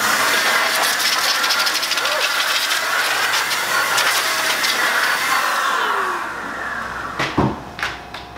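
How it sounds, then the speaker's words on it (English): Air blower blasting dust out of a Konica FS-534 finisher, a loud steady rushing hiss that cuts off near the end, followed by a few brief knocks and clicks. "I like to get a blower, blow all this stuff out"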